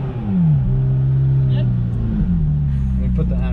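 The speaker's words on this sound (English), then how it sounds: "You could hear the turbo spool." A McLaren 570S idling in neutral with its turbo spooling, a loud steady engine drone whose pitch rises and falls as it is revved, with people talking over it.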